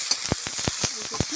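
Hot chilli powder sizzles in a pan for a potato-stem curry, with quick spatula scrapes and stirring clicks cutting through the close, steady frying hiss.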